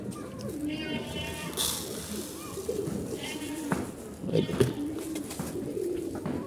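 Pigeons in a loft coo repeatedly and close by while someone talks over them.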